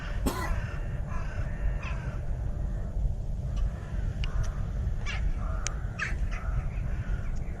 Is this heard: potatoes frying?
no